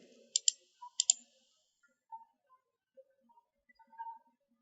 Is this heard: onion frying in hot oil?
no